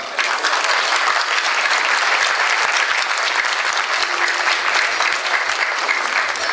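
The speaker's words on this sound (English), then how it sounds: "Why don't we also give a big applause to the committee members?" Steady, dense applause from a crowd at a ball in Toronto honoring committee members, a sustained wash of many hands clapping at even loudness throughout with no pause.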